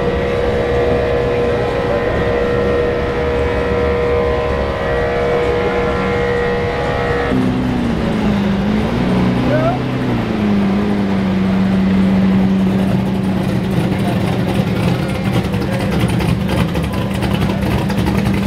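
At a Florida car meet, a nearby car with a loud exhaust holds a steady high engine drone, then drops to a lower rumble that rises and falls before settling into a sustained growl.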